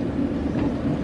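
A departing train rumbles steadily at a station, with a low, continuous rolling drone and a faint rising hiss, with no voices.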